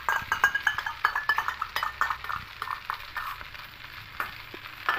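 Soy sauce and tomato sauce go into a hot pan of homemade pasta, sizzling close up while a utensil stirs and scrapes against the pan in quick, uneven clinks and taps.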